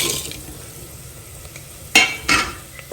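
Whole spices, cardamom, mace, bay leaf, cashew and fennel, roasting in a pan, a faint steady sizzle broken by two louder scraping stirs near the end and a small clink.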